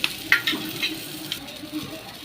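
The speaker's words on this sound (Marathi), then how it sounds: "लालसर होईपर्यंत कांदा आपण भाजून घेऊयात एक दोन मिनटं हा भाजून घेऊयात" Onion frying in a little oil for a homemade chicken dish makes a soft, close sizzle, broken by a few sharp clinks and scrapes of stirring.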